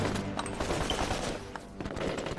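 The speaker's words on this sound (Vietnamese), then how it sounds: "Tôi dùng súng máy yểm hộ mọi người." Sustained machine gun fire and a dense fusillade from an anti-Japanese war action film, loud, rapid, continuous bursts with overlapping gunshots throughout, no talk.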